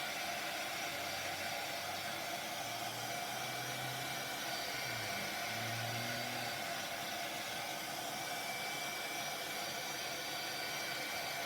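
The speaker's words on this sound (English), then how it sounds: "We're going to use the heat gun again and just see if we can dry this enough" A heat gun blows steadily to dry freshly painted wood, a constant loud broadband rush of hot air lasting the whole stretch with little change.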